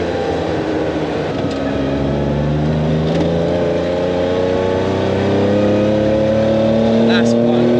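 Porsche 911 with a 2.2-litre engine pulling hard on the road, its loud rasping note climbing through the revs, heard from inside the car over steady road rumble.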